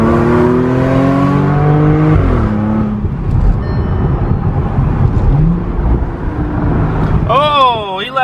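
A tuned 400 HP Audi S5 with the roof off accelerates hard with a rising engine note, then shifts and settles into a lower rumble with wind noise, ending in a brief whine-like burst.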